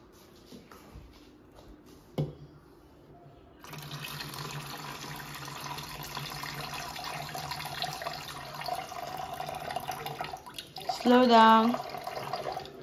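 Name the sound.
water poured from a tap to rinse rice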